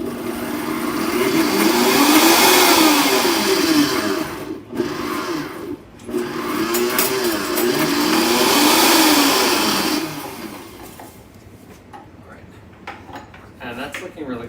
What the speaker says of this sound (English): I'm going to use the blender to make this more smooth